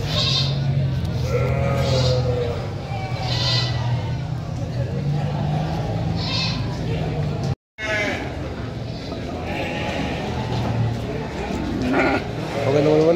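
Sheep bleat repeatedly at the Tanjungsari livestock market in Sumedang, loud and close over crowd babble and passing traffic, with voices talking throughout and a brief cut midway.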